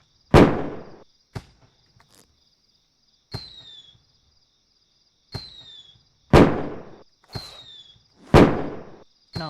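Fireworks in the No One Survived video game burst in sharp, loud cracks, about six explosions spaced irregularly with hissing tails and brief whistles between them, close by and with no talk over them.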